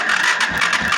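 Kawasaki Barako motorcycle engine cranking and catching after an electrical fault repair, a steady close mechanical running sound with pulsing, slightly uneven beats across about a second.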